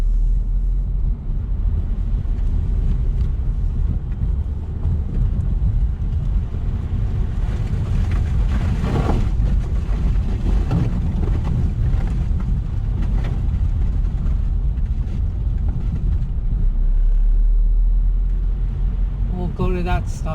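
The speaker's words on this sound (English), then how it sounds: "So I'm gonna brake, clutch in, first gear, we'll make a left." Steady engine rumble from a car with a manual transmission, slowing for a stop sign as the driver brakes, clutches in and selects first gear before a left turn, with the driver talking throughout.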